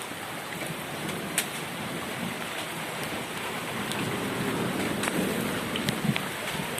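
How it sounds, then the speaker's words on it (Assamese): A hailstorm in Assam: hail and heavy rain patter densely and continuously on surfaces, with occasional sharper hits standing out against the steady roar. "এয়া শিল চাব পাৰে শিল বৰষুণ আজি"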